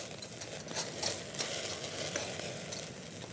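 A frozen porterhouse steak, finished on the grill after sous vide, sizzles quietly with soft crackles and a few scraping turns of the meat, all fairly faint and steady with no talking.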